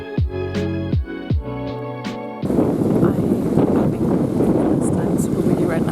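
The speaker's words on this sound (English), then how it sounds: "Super windy right now" Strong wind buffets the microphone outdoors at a pool in stormy summer weather, a loud, continuous roar of gusts that takes over after a few seconds of brief tonal sounds.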